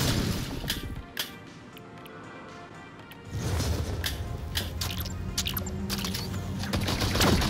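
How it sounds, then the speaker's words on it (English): Enemies burst apart in slow-motion explosions in the Blasters of the Universe VR shooter, a dense stream of crashing, shattering debris and impacts with a brief lull midway before the chaotic destruction swells again. "When you finally beat one, they explode in slow motion and parts come flying towards you in a spectacular fashion."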